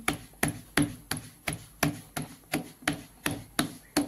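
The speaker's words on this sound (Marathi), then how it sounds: "आता आपण ही दुसरी थापून घेऊयात. ही दुसरी अशी एकसारखी थापून घ्यायची छान." Jowar flour dough being patted by hand into a bhakri flatbread: a steady, even rhythm of soft slapping pats, roughly three per second, close and clear, with no voices.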